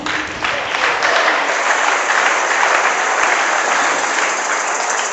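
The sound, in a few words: congregation clapping during sermon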